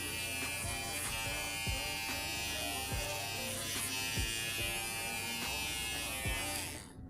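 An electric trimmer shaves the pile of a tufted rug, a steady close buzz with regular rhythmic strokes as it passes over the yarn.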